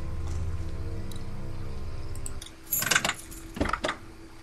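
Metal keys jangle twice in The Walking Dead video game, two short clinking bursts after a steady low hum, close and clear.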